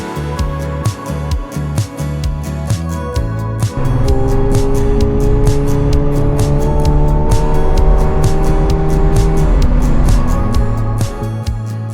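A McLaren sports car accelerates on the German autobahn, its engine note climbing steadily in pitch through a long pull before easing off near the end, loud and close with continuous road and wind roar.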